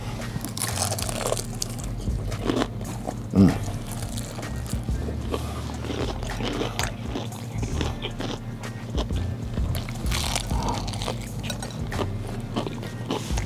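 Buttermilk fried chicken being bitten, with one sharp crunch up close amid a steady background of low rumbling noise and soft chewing sounds.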